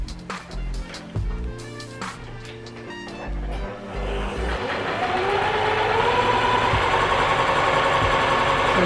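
An Elena HD1000 sewing machine sews a zigzag stitch: scattered clicks and knocks first, then the motor hums up into a steady, rising whir that runs to the end at moderate volume.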